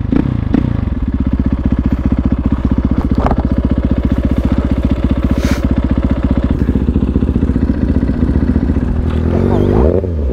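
A motorcycle engine runs loud and close throughout while being ridden, a steady harmonic drone with a brief rev rising near the end.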